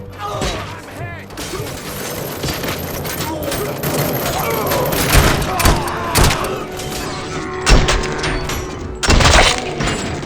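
Gunfire from the video game Robocop: Rogue City, with rapid volleys, sharp shots, shattering debris and mechanical clanks in a dense, loud battle mix. Voices shout through the fighting.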